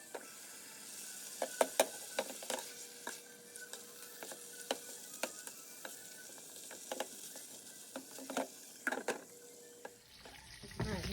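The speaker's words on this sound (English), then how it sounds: "the bacon is cooking, so we're just going to wait for the bacon to get done" Bacon frying in a pan, a steady soft sizzle broken by scattered sharp crackles and pops, moderately close, with no talking over it.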